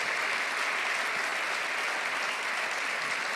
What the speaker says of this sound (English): could I ask you to give Sadhguru a big round of applause?